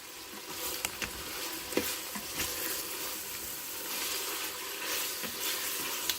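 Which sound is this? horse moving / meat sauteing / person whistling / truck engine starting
meat sauteing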